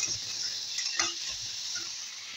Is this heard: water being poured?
no